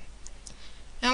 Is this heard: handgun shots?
no